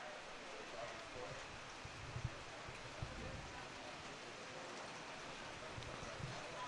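Pouring rain hisses steadily over a soccer field during a college championship match, a faint, even wash of noise with occasional soft thumps.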